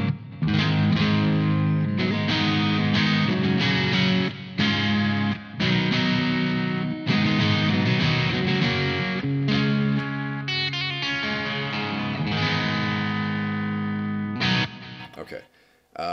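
Electric guitar played through an MXR 78 Custom Badass Distortion pedal, loud sustained chords and riffs with brief pauses, ringing out and fading at the end.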